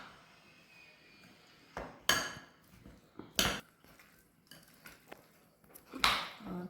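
Mango pickle is stirred with oil in a metal vessel, a spoon clinking and scraping against the sides in a few sharp, separate knocks with quiet pauses between them.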